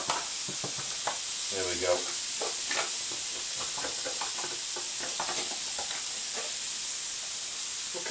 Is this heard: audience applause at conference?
no